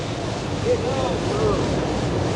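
Ocean surf at a 1981 pro surfing contest off Hawaii, a continuous broad roar of breaking waves with wind buffeting the microphone, steady and fairly loud throughout.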